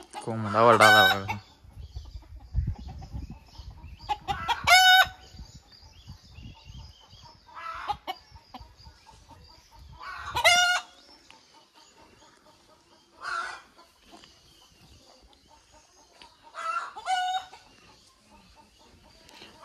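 Roosters and chickens on a farm crow loudly several times in drawn-out calls, with softer clucking and scattered farmyard noise between the crows.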